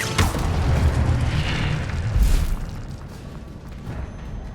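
Incendio fire spell bursting in the Hogwarts Legacy video game, a loud whooshing, booming blast of flame that roars steadily, swells again around the middle, then fades to a softer lingering rumble.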